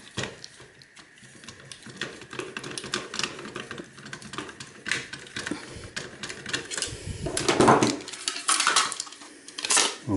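Hard plastic housing of a workplace clocking-in machine being pried apart with tools, giving scattered clicks, creaks and clattering snaps close up, building to a louder crack near the end, with no talking.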